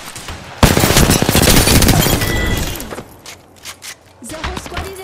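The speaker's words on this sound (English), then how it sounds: "this other squad just keeps shooting at me" Rapid automatic gunfire from an Apex Legends match erupts in a loud, dense burst lasting about two seconds, followed by scattered thuds and sharper shots, with a voice faintly present.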